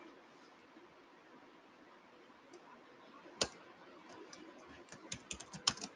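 Computer keyboard keys tapped while a Protractor test script is written, soft scattered clicks over a steady background hiss, growing denser and sharper toward the end.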